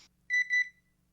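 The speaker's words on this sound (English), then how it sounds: "Okay, so it beeped a second time." A skincare device gives a short double beep, two close, clear electronic tones in quick succession, loud against an otherwise quiet room.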